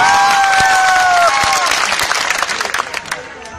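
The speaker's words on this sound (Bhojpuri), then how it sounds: "अखिलेश भैया के नाम पे एगो जोरदार ताली होगी कि चाहिए होगी" A crowd claps at an Akhilesh Yadav election campaign rally in 2022, loud sustained applause over fading music that thins into scattered claps toward the end.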